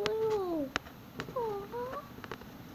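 A cat gives two drawn-out, wavering meows close by, separated by a short pause, with light clicks and handling noises around them in a quiet room.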